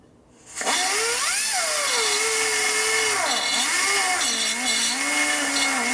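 A power tool ports a 1961 Harley-Davidson FL 74ci panhead cylinder head, spinning up after a brief quiet start into a loud, continuous high whine whose pitch rises and dips as it bites into the metal.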